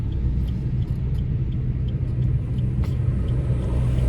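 A car climbs a mountain road uphill, its engine producing a continuous, heavy low rumble heard from close by, steady throughout with no voices.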